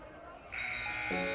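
A loud electronic buzzer sounds at the end of a high school basketball game's first quarter, a sustained harsh tone in a gym.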